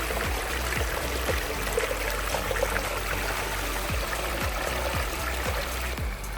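Water flows over boulders in a pondless waterfall, a continuous close rushing and splashing with low gurgling pulses, steady and fairly loud throughout.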